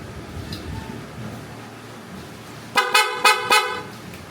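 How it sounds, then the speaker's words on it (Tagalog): A KYMCO Skytown 150 motorcycle horn gives four short, bright beeps in quick succession after a stretch of quiet background noise. "Busina."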